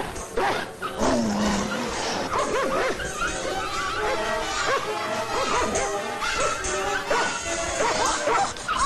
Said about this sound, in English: They're really dogs.